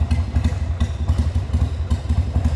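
A 2000 Harley-Davidson Sportster 883 motorcycle with custom pipes idles close by, a loud, lumpy, uneven rhythmic chug with pulsing low thumps and mechanical clatter, alone without talk.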